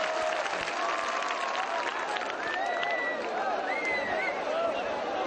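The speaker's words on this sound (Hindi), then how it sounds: "आप सभी एक बार जोरदार तालियां बजाकर धर्म जी को मंच पर आमंत्रित करें" Sustained applause from a village gathering welcoming Dharmendra to the stage, a dense, steady wash of clapping with crowd babble and some higher tones mixed in, loud and continuous throughout.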